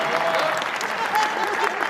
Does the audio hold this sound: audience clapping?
yes